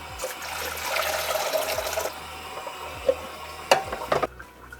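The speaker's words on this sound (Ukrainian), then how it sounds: "Картопля вже зварилася. І зараз злиємо з неї воду." Cooking water drained off boiled potatoes, a close, soft trickling and splashing stream with a few sharper sloshes and drips near the end.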